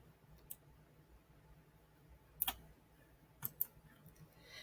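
Computer mouse clicks while working in an Excel spreadsheet: a few sharp, quiet clicks, one single and two close pairs, over a faint steady room hum.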